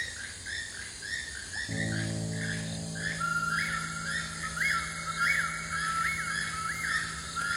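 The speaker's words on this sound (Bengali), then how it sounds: "ওই যে হুইসেল, ওটা আমার গান।" Repeated bright whistled bird notes, short rising chirps in a quick series, joined partway through by a steady low hum underneath.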